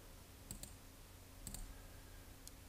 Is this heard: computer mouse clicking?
yes